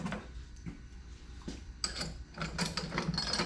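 A hand ratchet clicks as a loose bolt is tightened on a Harbor Freight tire changer, a close series of quick metallic pawl clicks in short bursts, with no talk.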